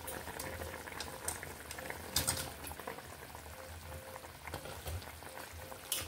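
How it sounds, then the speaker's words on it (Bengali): Paneer curry sauce boiling in a pan gives a soft, continuous bubbling with scattered pops and crackles, close up and fairly quiet. "এইভাবে ফুটতে শুরু করেছে"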